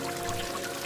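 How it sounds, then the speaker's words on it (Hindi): In an animated cartoon, water is poured onto newly planted seeds, a brief, close, steady splashing gush. "वीर हर रोज उन सभी में पानी डालता"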